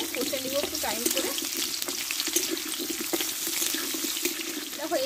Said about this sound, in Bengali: কুমড়ো আর ডাঁটাগুলো, আমি একই সঙ্গে কষে একটু ভেজে নেব আগে।